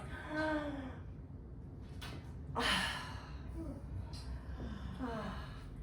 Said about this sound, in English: do a really big fake yawn